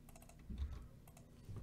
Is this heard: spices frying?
no